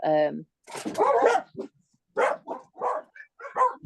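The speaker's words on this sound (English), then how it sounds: "sorry, that's 6 rescue dogs" Several rescue dogs bark indoors in a quick flurry of sharp barks and yips, some overlapping, near and moderately loud, with a voice speaking among them.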